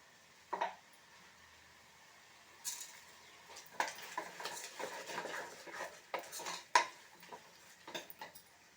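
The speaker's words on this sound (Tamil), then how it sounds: "இறால் வந்து நல்லா வதங்கணும்." Prawns are sautéed with salt and turmeric for a home-style prawn biryani, heard as intermittent utensil scrapes and clinks against the pan over a faint sizzle, close and fairly quiet.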